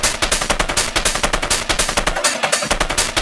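Dense, distorted, saturated wave-shaped Schranz techno percussion hammers out a fast, choppy rhythm, crunchy and loud, with tight punchy hits repeating steadily and no voices.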